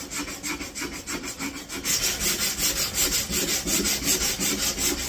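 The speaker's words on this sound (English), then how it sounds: "Can you turn the noise level that sandpaper is making down?" Sandpaper scrubs across pallet wood for a baritone guitar build in quick rhythmic back-and-forth strokes, close and loud, with a steady rasping pulse.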